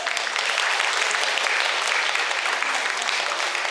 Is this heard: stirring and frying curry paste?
no